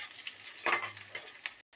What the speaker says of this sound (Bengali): রসুনটাকে আমি ভেজে নেব একটু।